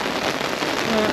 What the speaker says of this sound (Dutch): er loopt gewoon een rivier over het dak heen